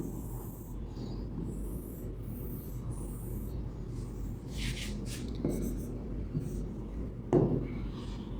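Pen scratching on paper while a Class 8 math problem is worked out, steady soft scribbling strokes throughout, close and quiet, with a few small bumps and rustles.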